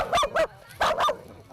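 A dog barks in two quick pairs, sharp and fairly close, with brief quiet gaps between the pairs and no talking.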